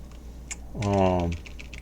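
Keys are tapped on a computer keyboard in a few quick, soft clicks in a quiet room, while a voice briefly talks over them.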